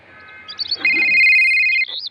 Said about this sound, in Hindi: उसी वक्त विक्रम के मोबाइल पर रिंग बजती है।